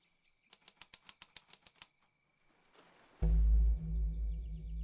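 A bird in the puzzle game Tangle Tower flaps its wings in a quick run of about nine sharp beats, then a loud low thump and rumble take over.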